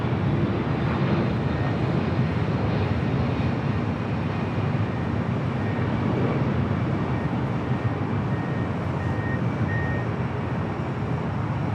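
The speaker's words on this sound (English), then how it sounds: "Next arrival is a Delta 767-300ER" A Delta Boeing 767-300ER arrives at LAX, a continuous, even jet roar heard at a distance with no voices over it.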